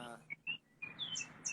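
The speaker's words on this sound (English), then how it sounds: "Can you hear the birds in the background?" Small birds chirp in short bright bursts, coming and going through a quiet indoor space during a live motivational stream, faint and in the background.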